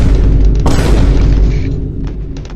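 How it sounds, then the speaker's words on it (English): An artillery shell explodes in a video game, a loud deep boom with a sharp burst that fades into low rumbling debris over a couple of seconds. "Hey, look, guys, it's artillery."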